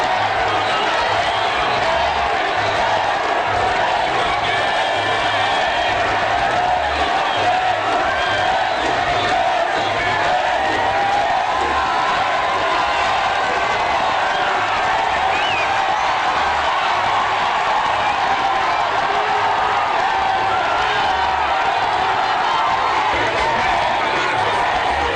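Dense, loud crowd noise from citizens of Kania, Guinea, greeting President Alpha Condé: sustained cheering, shouts and whoops with scattered clapping, steady throughout, with voices mixed into the roar.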